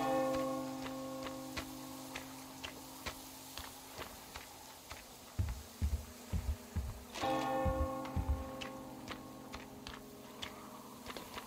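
A bell rings repeatedly in the video game Metro Exodus, clear metallic strikes in a steady rhythm that pause and then resume, with some footsteps and thuds in between.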